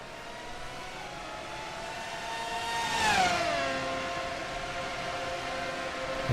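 A fast race car engine roaring in a racing video game of the Firestone Grand Prix of St. Petersburg, a steady high-pitched whine rising to a loud pass near the middle, then a falling pitch as it pulls away.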